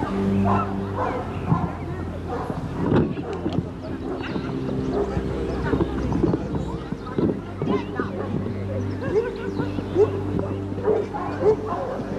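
A rescue dog barks and yips repeatedly during a water rescue training exercise, loud and close, with whimpering in between and people talking underneath throughout.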